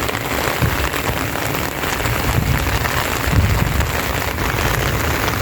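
Heavy rain pours continuously over a flooded farm, a dense close hiss of drops hitting surfaces with low rumbling underneath and no voices.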